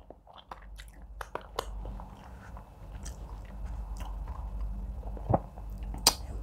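Close-up chewing of Nigerian egusi ijebu with fish, meat and fufu: wet, squishy mastication with a few sharp bites and crunchy snaps over a steady mouth-noise bed, no talking.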